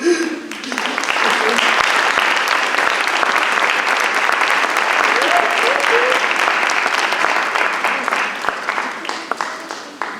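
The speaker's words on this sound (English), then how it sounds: "Another round of applause for all of our mentors." A full room applauds at the Chicago Area Schweitzer Fellowship Celebration of Service, thick close clapping starting abruptly and sustained for about ten seconds before easing slightly at the end.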